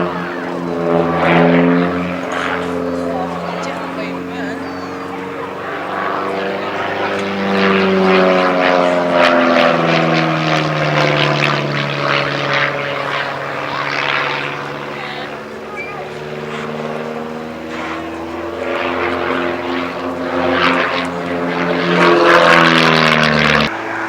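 A 40 horsepower propeller aircraft climbing for height at an airshow drones with a buzzing engine whose pitch rises and falls as it manoeuvres, fairly close and continuous, with a commentator speaking over it.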